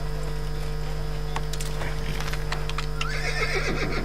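A horse neighs over a steady electronic hum, with light clip-clop of hooves and soft footstep-like taps, in Assassin's Creed, in the rich district of Jerusalem.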